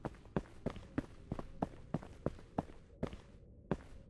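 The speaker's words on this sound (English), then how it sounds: "I feel like I'm imagining hearing extra footsteps" Footsteps in the video game Poolscape fall in a steady walking rhythm, about a dozen crisp, echoing treads on a hard tiled floor, each one distinct against a quiet background.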